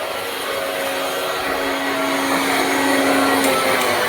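An electric fan runs indoors with a steady, even whirring drone and a faint tonal hum that holds for the whole stretch. No one speaks.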